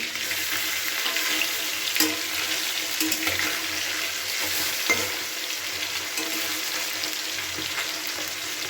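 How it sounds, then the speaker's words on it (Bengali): Small amudi fish fry in hot oil with a continuous bright sizzle and fine crackling, as the pieces are turned in the pan with occasional light utensil taps. "এখানে মাছগুলো আমি ভাজতে দিয়ে দিলাম এবার মাছগুলো উল্টে দিচ্ছি"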